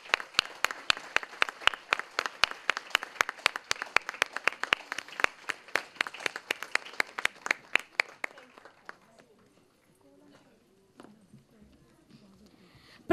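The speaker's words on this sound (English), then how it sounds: "give a big round of applause to them" Audience at a preschool event in Chennai bursts into loud, dense applause lasting about eight seconds, then the clapping tapers off to near silence with a few faint scattered sounds.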